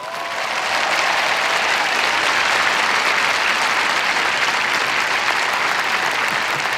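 Sustained audience applause at a Stanford University commencement welcoming Tim Cook, a dense wash of many clapping hands building up in the first second and holding steady and loud to the end, with no voices on top.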